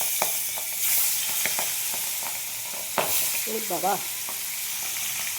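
Hot oil sizzles steadily in a pan for a fish dish, a dense close frying hiss with scattered utensil taps, and a brief voice heard partway through.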